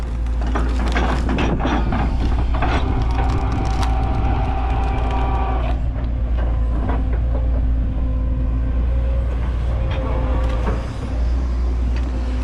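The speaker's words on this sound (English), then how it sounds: "I just love the noise that it makes when it's ripping through those logs." An HF-800 cone log splitter grinds and rips through logs, a loud continuous low mechanical rumble with cracking and creaking bursts throughout, heard up close without speech.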